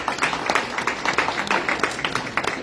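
A crowd claps in a room at a Marion County, Tennessee Republican political gathering. Steady, dense applause runs throughout, fairly loud and near, with overlapping claps forming an even patter.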